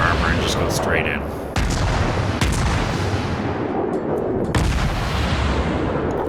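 Warship guns fire in World of Warships, a dense continuous barrage of booming shots and crackling gunfire with sharp louder bursts near 1.5 and 4.5 seconds, steady and loud throughout.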